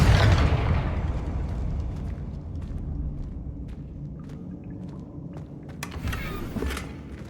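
A Confringo spell explosion in the video game Hogwarts Legacy, a loud initial blast that decays into a long rumbling tail, followed by scattered smaller pops and crackles near the end.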